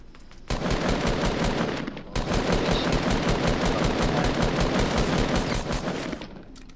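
Gunfire in a video game rattles in long, loud automatic bursts, a brief pause near two seconds, then a sustained rapid stream of shots close by.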